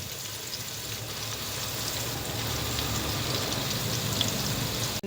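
South Indian fish kulambu masala sautéing in a pan, a dense, even crackling sizzle held close and steady for a few seconds without any voices.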